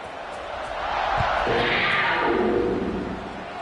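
A stadium crowd at a football game buzzes after a score ahead of a kickoff, a broad steady roar that swells in the middle and eases off, heard from a distance with a faint thud early on.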